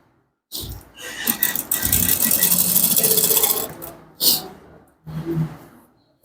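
A sewing machine stitches along a seam of an Ankara fabric top, one loud, close run of rapid whirring followed by two short bursts, with quiet gaps between.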